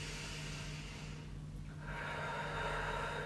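Deep breathing during a chair yoga class: a soft, close, slow exhale followed by a longer airy inhale, quiet and without talk.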